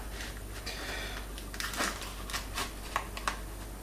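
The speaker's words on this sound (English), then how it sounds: "Razor knife. Just gonna cut out a piece here." A razor knife cuts a piece of Zytel plastic for a knife sheath, making quiet, close, irregular scraping clicks and short cutting strokes, with no one talking.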